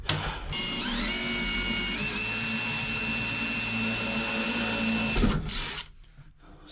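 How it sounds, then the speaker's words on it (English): A power drill whines steadily at high speed for several seconds pre-drilling screw holes in a 1952 Chevy's upholstery, the pitch shifting slightly under load, then winds down and stops. "I'm gonna pre-drill some holes so we can get these screws to go in"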